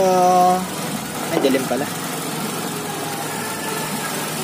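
Nissan car with a GA16 DE engine idling after a run, a steady low rumble that continues under brief speech from a man.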